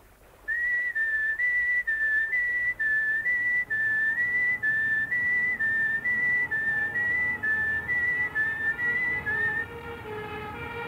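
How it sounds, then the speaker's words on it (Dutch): A person whistles a simple tune, clear steady notes in a rising-and-falling melody for several seconds, close by with no talking. "Wil ik proberen te fluiten?"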